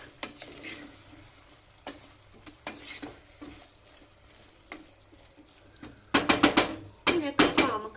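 Finely chopped onion, added over carrots, browns in a pan for Turkish forest kebab, with soft sizzling and repeated stirring scrapes that turn louder and sharper near the end.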